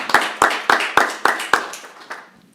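A small council meeting audience claps for Public Works, a handful of sharp, evenly spaced claps in a clear rhythm that gradually thin out and fade.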